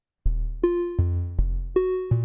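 Layered DNA sonification music plays a deep bass tone that re-strikes at regular intervals, with brighter synthetic notes stacked above in a steady rhythm. It sounds alone, loud and clean.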